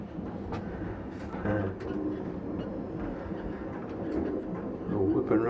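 Interior rumble of a moving train rolling along the tracks through Sunburg, a steady low drone with faint rattles, continuous and close.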